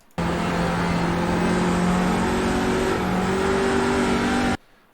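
A race car engine at Sonoma Raceway holds a steady, loud drone while the driver plays with the throttle, its pitch climbing and dipping slightly, then it cuts out abruptly near the end.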